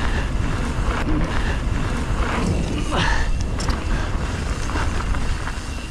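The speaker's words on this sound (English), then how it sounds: "Oh, boy, it's windy." Strong wind buffets and roars loudly and continuously on a summit trail, with gusty rumbling throughout.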